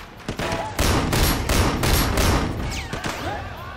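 A mounted gun fires in the video game Sleeping Dogs in loud, close bursts of rapid automatic fire, with ricochet whines near the end.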